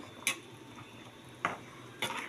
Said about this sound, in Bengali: একটু মাছগুলোকে উল্টে পাল্টে দিই, যাতে প্রত্যেকটার মধ্যে একটু মাছের সেদ্ধ হয়ে যায়